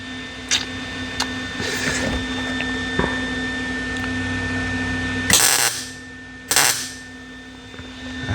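Welding on a thin Corvair engine oil plate during a custom 8-to-12 plate modification: a steady machine hum with scattered clicks, then two loud, close, crackling welding bursts about a second apart.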